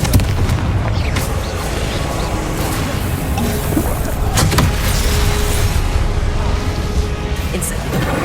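Confringo explosion spell cast in the video game Hogwarts Legacy, a dense roaring blast with sharp bursts layered over constant loud game effects.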